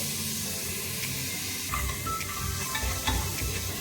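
Onion and tomato frying in a pan for mutton kurma, a steady close sizzle and hiss with a few light stirring scrapes, no talking.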